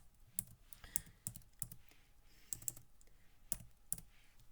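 Typing on a computer keyboard while entering HTML markup, with bursts of clicky keystrokes in short uneven runs, fairly close and quiet.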